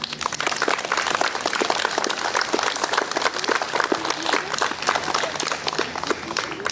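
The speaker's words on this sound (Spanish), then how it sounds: "para quien les pido un fuerte aplauso" Audience at a primary school event in Rincón de Ugarte applauding a school sector chief, a steady dense patter of many hands clapping throughout, fairly close and even in level.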